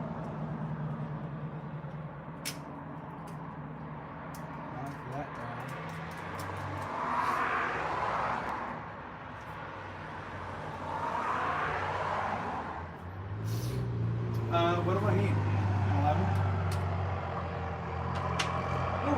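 A 4BT diesel truck engine rumbles in the background, swelling and fading twice as it moves past, with a few beeps near the end.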